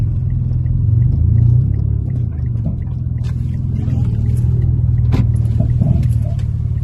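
Cars rumble past on a road, a steady low engine drone with a louder pass early on and lighter traffic noise continuing behind it.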